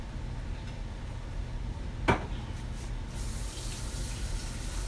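Water from a tap runs steadily into a sink as chocolate is washed off hands, a continuous soft splashing flow with a brief sharper splash midway and no talk.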